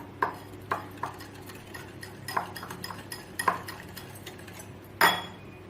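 A metal spoon stirs powdered sugar into cupcake batter in a bowl, giving a series of light clinks and scrapes against the bowl's side, close and fairly quiet, with a sharper clatter near the end.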